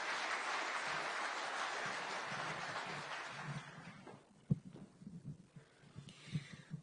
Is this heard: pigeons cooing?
no